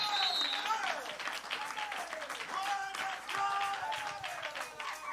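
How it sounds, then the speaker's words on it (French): Church congregation applauding steadily throughout, a dense continuous wash of clapping with voices and shouts mixed in, a singing or exclaiming voice rising over the crowd. "acclamez-moi le Seigneur une fois"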